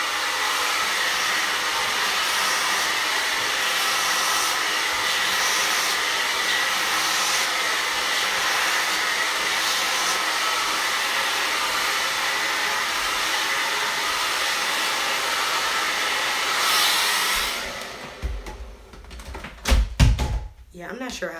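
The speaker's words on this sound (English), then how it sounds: "I'm going to finish blowing this out so it doesn't look too poofy." A hair blow dryer blows out hair with a loud, steady airy roar for most of the stretch, then cuts off, leaving a few knocks and handling thumps near the end.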